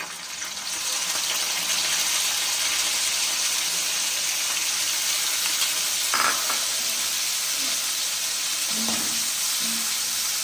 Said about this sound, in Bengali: তেলটা গরম হয়ে গেছে, চিংড়িটা এবার আমি দিয়ে দিচ্ছি।